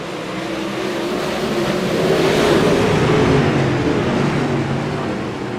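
A pack of open wheel dirt modified race cars roars off at the green flag start at Oswego Speedway, a loud sustained engine drone that swells in the middle and eases slightly, with no talking.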